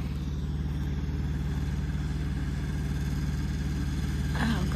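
A farm tractor engine runs at a steady idle, giving a low, even rumble with a regular throb. It stays close and constant throughout, with no voices.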